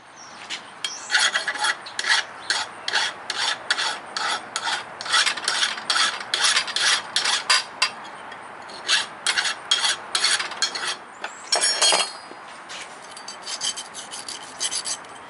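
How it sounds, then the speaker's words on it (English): Hacksaw cutting metal by hand, a close, loud run of rhythmic rasping strokes at a steady back-and-forth pace, with a few short pauses between bursts of strokes. "so you're gonna watch me hacksaw."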